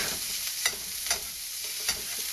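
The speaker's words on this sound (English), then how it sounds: "now for the dry fry, I'm going to start out with the pork" Ground pork dry-frying in a very hot pan gives a steady bright sizzle, close by, with a few sharp scraping stirs standing out over the hiss.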